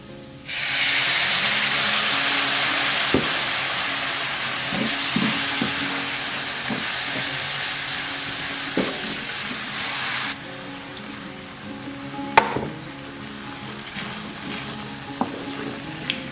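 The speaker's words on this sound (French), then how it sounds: "Je rajoute l'eau petit à petit." Water goes a little at a time into a hot pan while cooking a vegan soup, giving a loud, steady hissing sizzle that drops back after about ten seconds, then occasional sharp clinks and spatters.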